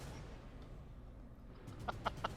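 A rooster or chicken gives three short clucks near the end, faint and low against a steady background murmur.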